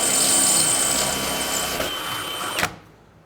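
Power drill boring holes for self-tapping bolts in a 1970 Dodge Dart, a steady loud whine running for over two seconds, then a brief final catch as it cuts off.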